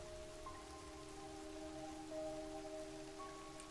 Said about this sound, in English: Why is rain coming in my base?